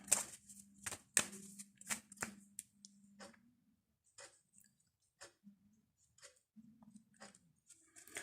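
A Lenormand fortune-telling card deck is shuffled up close. Quick papery riffles and slaps come in bursts, then taper into softer, scattered card handling with short pauses between.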